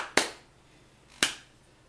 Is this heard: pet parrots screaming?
no